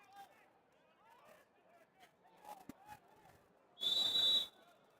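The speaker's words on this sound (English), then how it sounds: "Refs blowing their whistle." A referee's whistle at a high school lacrosse state championship game, Skyline vs Eastlake, gives one sharp, loud blast lasting about half a second, rising above a steady low hubbub of crowd babble.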